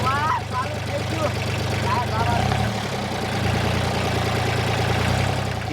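A tractor engine idles with a steady low, throbbing rumble that runs the whole time, while several people talk and call out over it nearby.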